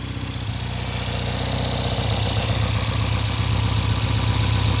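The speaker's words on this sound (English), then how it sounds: "But you can't beat the sound of a British twin being a 650cc." A 1970 Triumph T120 Bonneville 650cc British parallel-twin motorcycle engine on a cold day, already running and idling with a steady, loud, throbbing low pulse close by, no voices.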